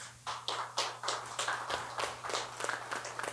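A handful of distinct claps, roughly a dozen sharp slaps in an irregular rhythm, from an audience at a stand-up comedy set, over a steady low electrical hum.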